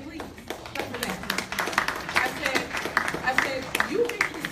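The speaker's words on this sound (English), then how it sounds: "clap for that, please. Clap for that." Audience at a Newark politics and Black community talk clapping in a burst of scattered hand claps that swells and continues for several seconds, with a voice speaking over it.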